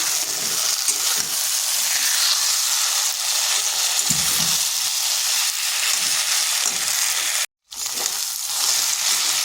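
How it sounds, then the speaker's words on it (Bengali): Potato, flat beans and spices fry in a pan with a steady, dense sizzle, broken by occasional scraping stir strokes and one brief gap near the end; no voices. "আলু, সিম আর এই মশলাগুলো মিশিয়ে নিচ্ছি। আর তার সাথে মশলাটাও ভাজা হয়ে যাচ্ছে"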